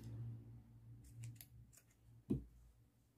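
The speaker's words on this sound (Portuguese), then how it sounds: "Vamos já cortar esse fio" Scissors snip through crochet yarn in one quick, quiet cut, preceded by soft handling rustles close by.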